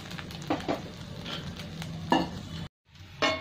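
Aloo dosa frying in a pan as oil is dabbed on top, a soft continuous sizzle with a few scraping spatula strokes, close by, briefly cut off near the end.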